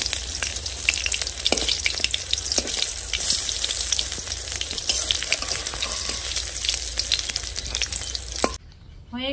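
Palm seed pakoras frying in oil give a steady, close, busy sizzle with scattered crackles and stirring clicks throughout, cutting off abruptly near the end.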